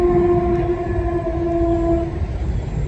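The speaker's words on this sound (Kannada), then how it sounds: "ನೀವು ಕೇಳ್ತಿರ್ಬೋದು ಯಾವುದೋ ಒಂದು ಟ್ರೈನ್ ಹೋಗ್ತಾ ಇದೆ" A train on the coastal Konkan line passes beside a railway station, its horn sounding a steady, loud, sustained tone over heavy rumbling before the horn ends and the rumble continues.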